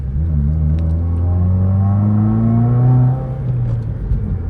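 2021 Subaru WRX engine accelerating on a back road, heard from inside as a loud rising rumble with climbing engine tone that builds for about three seconds, then eases off as the throttle lifts.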